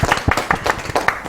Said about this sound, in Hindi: इनके लिए भी तालियां।